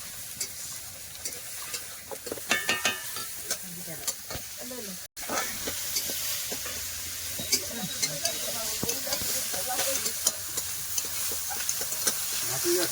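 Ginger paste, onion, tomato and green chilli fry in a pan, a steady sizzle and hiss with repeated scraping stirs, close and fairly loud.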